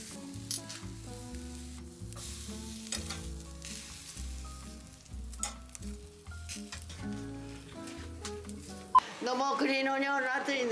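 Meat sizzling on a traditional Jeju barbecue grill at night in Korea, a constant crackling hiss with irregular pops heard close, while people talk and music plays over it, ending in a burst of louder spattering.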